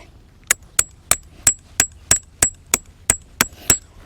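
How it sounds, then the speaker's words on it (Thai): A steady series of about eleven sharp blows from a small hammer drives a tent stake into the ground at a regular pace, each impact crisp and close with brief metallic ring. "เราจะตอกสมอไว้"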